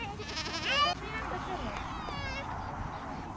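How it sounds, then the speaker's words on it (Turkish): Sheep bleat repeatedly while a flock is herded outdoors, the calls fairly close and layered, with a voice speaking over the animals and a general bustle of movement. "Koyun."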